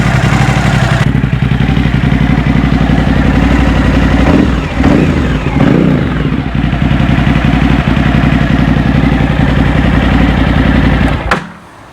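A Suzuki V-twin superbike engine idles loud and close, a steady deep throbbing rumble with faint mechanical clatter that holds for about eleven seconds before cutting off.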